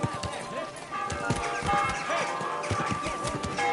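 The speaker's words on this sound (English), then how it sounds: "Easy, good horse." A horse's hooves clatter in fast, uneven beats close by, mixed with scuffing and noisy movement, with voices talking at the same time.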